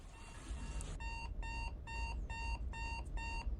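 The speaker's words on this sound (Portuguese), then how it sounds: "Você acorda quando o despertador toca" An alarm clock rings in a regular pattern of bright, evenly spaced beep bursts. The bursts are loud and close and repeat steadily over a faint background hum, with no talking.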